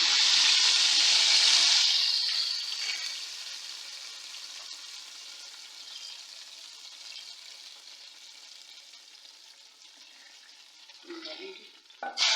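Tadka tempering with green chillies sizzling in hot oil for kadhi pakora, a loud bright hiss at first that eases into a steady softer crackle, with a few stirring clinks near the end.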